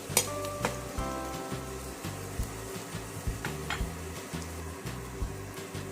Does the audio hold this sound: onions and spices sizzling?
yes